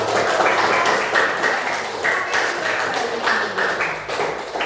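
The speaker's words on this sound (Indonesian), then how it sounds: "Mari kita beri tepuk tangan." An audience at a training session breaks into dense, continuous applause, many hands clapping at once in a steady wash of sound with no talking over it.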